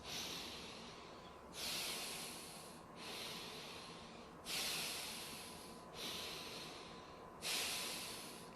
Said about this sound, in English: Take in 3 or 4 deep breaths, inhales and exhales through your nose.